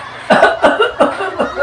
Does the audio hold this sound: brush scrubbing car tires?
no